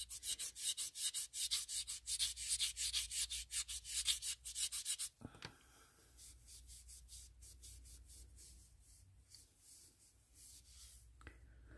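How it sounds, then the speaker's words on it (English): Steady, rhythmic scraping strokes of sandpaper on hard cast resin, loud and close, then slowing into softer, irregular rubbing. "This is where I'm sanding."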